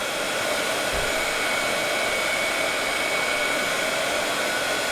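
Constant blowing whir of a heat tool melting embossing powder on an art journal page, close and steady throughout with no talking.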